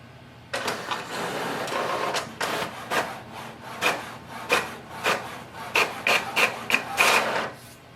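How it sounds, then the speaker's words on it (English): An HP OfficeJet Pro 9125e inkjet printer prints a job sent over Wi-Fi, with steady rhythmic swishes of the print head passing back and forth and faint whirring and clicking between strokes, loud and close. "So printer is working through the Wi-Fi."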